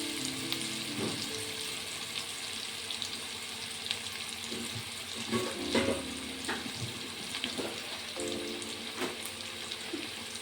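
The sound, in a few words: curry leaves frying in a pan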